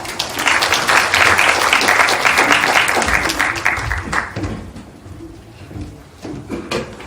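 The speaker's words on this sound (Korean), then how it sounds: "총장님을 박수로 맞이해 주시기 바랍니다" A university audience applauds to welcome the president, a burst of clapping for about four seconds that thins into scattered claps and a few quiet sounds.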